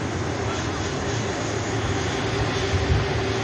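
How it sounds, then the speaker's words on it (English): A Boeing 787 Dreamliner takes off from Manchester Airport, its jet engines giving a steady, broad roar from a moderate distance, continuous and unbroken, with a low rumble underneath. "Dreamliner rotating, takes to the skies,"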